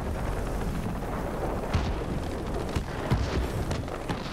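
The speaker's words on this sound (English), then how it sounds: "I am under AA fire." Anti-aircraft fire bursting around a plane in the video game World of Warplanes: dense, continuous rumbling roar with scattered sharp pops and booms, steady and loud throughout.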